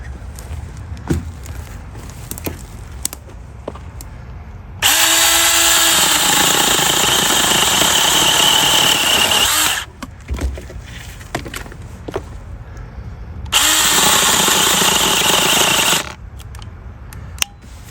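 A SEESII 2-in-1 battery electric pole saw cuts through a tree branch in two loud sustained bursts of steady motor whine and chain buzz, separated by quieter outdoor rustling and footsteps.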